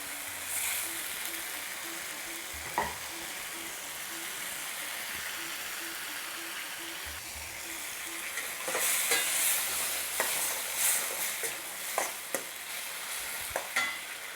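Chicken balti sizzles in a pan with a steady frying hiss, while a spoon stirs it and scrapes the pan in short, sharp strokes that grow more frequent toward the end.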